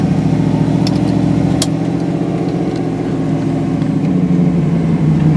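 A 1965 Mustang Cobra resto-mod engine pulls hard, a loud, close, throaty rumble holding steady with a couple of sharp clicks, no talking.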